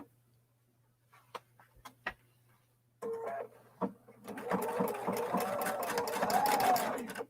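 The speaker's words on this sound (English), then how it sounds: "we're going to take a peek at sewing on this" A Viking Brilliance 80 sewing machine stitches through denim, starting after a few scattered clicks and handling noises, then running in a steady, close, rapid needle rhythm for several seconds.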